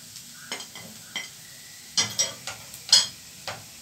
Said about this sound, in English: I'll let them warm up a bit and fry together with the onions for the nice flavor